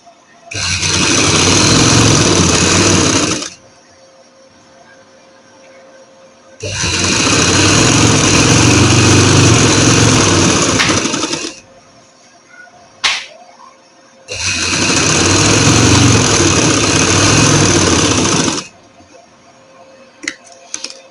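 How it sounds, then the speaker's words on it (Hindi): A sewing machine stitches lace onto a fabric edge for a salwar, running in three long, loud, steady bursts of several seconds each, separated by quiet pauses with faint handling clicks. "इसके किनारे पे मैं सिलाई लगा लूँगी"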